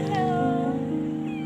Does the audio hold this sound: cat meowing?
yes